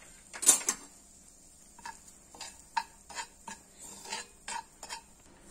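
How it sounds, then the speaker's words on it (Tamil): Half a cup of semolina is roasted in ghee in a pan while a spoon stirs and scrapes, giving irregular soft clinks and scrapes, fairly quiet and close, with no talking. "இந்த ரவையை விட்டு வறுக்கலாம்."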